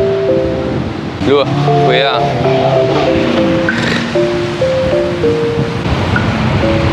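Sea surf washes onto the coast at Tutoya, a loud continuous roar of waves and wind close by, while people talk over it and music plays.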